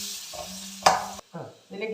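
Mustard seeds, chillies and small shallots are stirred into hot oil for a quick Kerala-style curry and crackle in uneven bursts, with one sharp loud spatter and short gaps between the sizzles.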